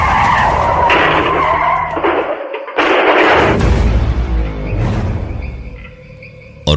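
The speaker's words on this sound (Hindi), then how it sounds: "गाड़ी का बॉनेट अपने आप अचानक खुल गया और सामने का शीशा चकनाचूर होकर ऐसा बिखरा कि गाड़ी सीधे सामने एक पेड़ से जा टकराई।" Dramatized car crash for a horror audio story: a car skids with loud tire screeching, a brief gap, then a heavy impact into a tree with shattering windshield glass and debris, continuous and loud throughout with no talking.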